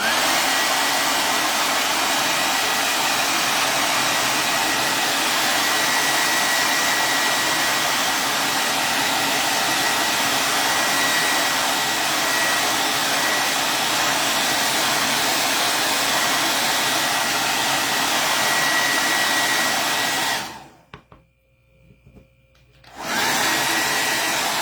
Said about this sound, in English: I know I need to blow dry these, so it's about to get loud again